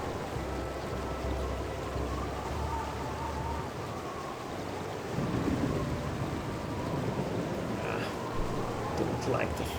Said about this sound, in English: Don't like the thunderstorms.